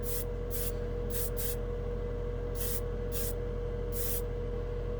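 An airbrush sprays a final coat of black Pro Acryl acrylic hobby paint in seven short hissing bursts of uneven length, close by, over a steady low hum from a compressor or room.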